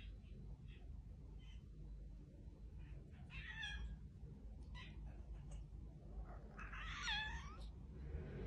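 A kitten meows twice, faint and thin, the cries rising and falling after its owner steps out to fetch a package, over a steady low household rumble.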